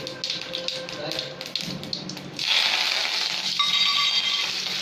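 Mustard seeds and urad dal in two teaspoons of hot oil in a pan, preparing Indian-style masala sundal, burst into a loud, steady sizzle after a brief stretch of talking.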